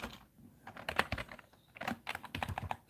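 Fingers type on a computer keyboard, close and fairly quiet, with a quick irregular patter of key clicks in short bursts over about three seconds and no speech.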